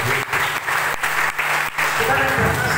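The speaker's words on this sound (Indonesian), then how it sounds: "Beri tepuk tangan dulu yang terbaik." Church congregation clapping in a burst of applause during a sermon, dense and loud, with a few brief dips and the crowd's noise shifting toward the end, plus some voices mixed in.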